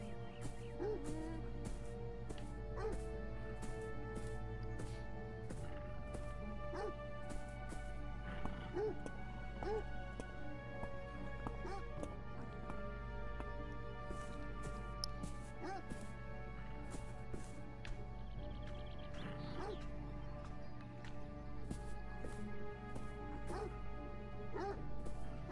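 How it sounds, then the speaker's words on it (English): A dog barks in the video game Beyond Eyes, short yips set against a dense, steady musical score that carries on throughout. "But that dog is probably real."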